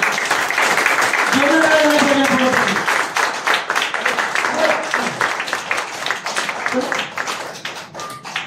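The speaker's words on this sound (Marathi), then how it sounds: "या प्रोडक्ट साठी एकदा जोरदार टाळ्या झाल्या पाहिजे" An audience at a product presentation claps loudly and steadily, the applause gradually thinning out, with a voice heard briefly over it.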